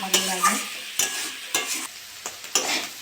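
Banana stem (thor) fries in a pan with a little sugar added, a close soft sizzle broken by several distinct stirring scrapes of a spatula at irregular intervals.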